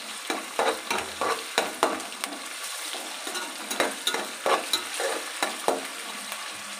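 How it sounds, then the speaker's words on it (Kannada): Grated ginger-garlic paste frying in a pan with half-fried onions for egg fried rice, heard as a close sizzle broken by a series of repeated stirring scrapes in an uneven rhythm, with no talk. "ಇವಾಗ ಶುಂಠಿ ಬೆಳ್ಳುಳ್ಳಿ ಪೇಸ್ಟು ತುರಿದಿದ್ದೀನಲ್ವಾ, ಅದನ್ನು ಹಾಕ್ಕೊತಾ ಇದ್ದೀನಿ"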